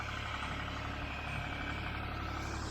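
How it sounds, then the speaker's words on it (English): Tractor engine idling and creeping along at low speed while bringing in a tiller on a homestead garden, a faint steady mechanical hum with no voices. "we're going to use the tractor here to lift up the tiller"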